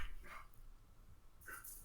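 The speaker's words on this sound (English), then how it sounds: "My dogs are going crazy." Dogs play fighting indoors give short, sharp barks and yips, a burst at the start and another near the end with a quieter pause between, close and fairly loud.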